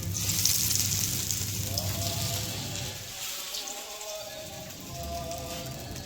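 Tikki patties frying in oil on a hot tawa griddle, a steady close crackling sizzle that runs the whole time, easing slightly midway, with faint voices in the background.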